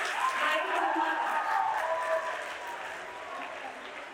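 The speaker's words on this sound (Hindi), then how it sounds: "आइए जोरदार तालियों के साथ स्वागत करें गायत्री वर्मा का" Audience applause at a girl-child day celebration in Lucknow, welcoming a village woman to the stage: dense, steady clapping from a large crowd, loud and sustained for about four seconds, tapering slightly, with faint voices mixed in.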